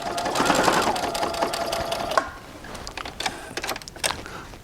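Sewing machine stitching a curved seam on quilt pieces, a close rapid mechanical whirring run that slows, then stops and starts in short bursts of stitches.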